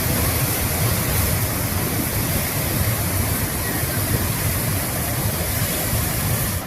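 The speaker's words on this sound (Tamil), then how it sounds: "திருப்பத்தூரில் கொட்டி தீர்த்த கனமழையால் ஜலகாம்பாறை அருவி ஆர்ப்பரித்து கொட்டுகிறது" The Jalakamparai waterfall in Tirupattur, swollen after heavy rain, roars as a dense, steady, loud rush of falling water with no pauses or voices.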